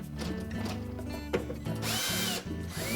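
A power screwdriver whirs in steady bursts, backing stainless steel screws out of a Whirlpool dishwasher pump cover one after another, close and fairly loud with brief pauses and pitch dips between screws.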